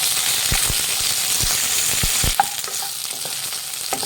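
Sliced okra fries in hot oil with a steady bright sizzle, punctuated by several sharp scraping knocks of a spatula stirring the pan, then settles to a softer crackle.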